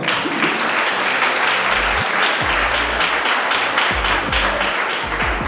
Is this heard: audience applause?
yes